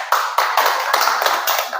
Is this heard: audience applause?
yes